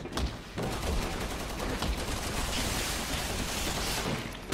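Dense, continuous gunfire in the Resident Evil 6 co-op video game, with rapid automatic bursts blending into a sustained loud fusillade.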